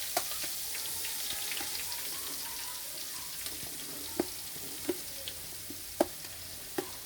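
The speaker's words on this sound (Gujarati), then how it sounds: "ડુંગળીનું કટિંગ નાખી દેવાનું." Chopped onions fry in oil with other ingredients for pav bhaji, giving a soft, continuous sizzle with occasional sharp ticks and pops scattered through it, fairly faint overall and without any talking.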